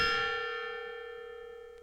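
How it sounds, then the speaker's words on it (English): A single gong strike ringing out with a bright, shimmering metallic tone that slowly decays over almost two seconds, close and clear with no talking. "it's time to bang that gong"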